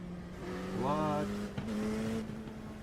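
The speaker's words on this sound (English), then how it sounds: "Car is loud." A race car engine in an IMSA sim racing game at Road America drones with a steady tonal hum that briefly rises in a quick rev, while a person talks over it.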